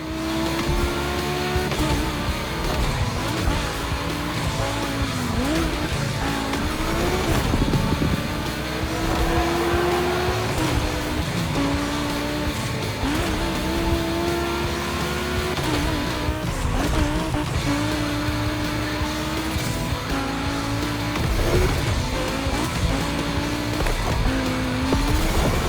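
Volkswagen race cars in The Crew Motorfest roar around a track, engines revving and shifting continuously with rising and falling pitch, tires squealing through corners, loud and dense throughout with no talking.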